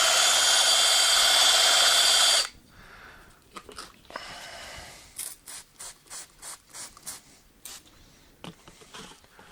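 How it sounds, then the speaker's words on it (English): A ball hone works inside an engine cylinder of a 1967 Dodge Dart, first a loud continuous drill whir for two seconds, then a string of shorter scraping, rubbing bursts as the tool strokes in and out. "I've gone in with my ball hone to create my crosshatch pattern"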